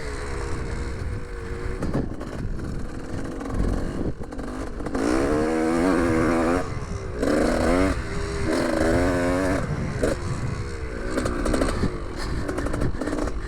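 A 2001 Gas Gas 300 two-stroke dirt bike roars continuously on a muddy, slippery track, its engine revving up and down in loud rising and falling surges, heard close with no talking.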